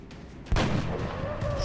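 A single loud gunshot blast in XCOM: Enemy Unknown, sharp and booming, followed by a lingering rumble and faint background tones.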